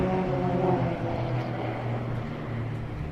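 A formation of aircraft flies a loop at the Royal International Air Tattoo air show, producing a continuous, loud, droning engine roar that holds steady throughout.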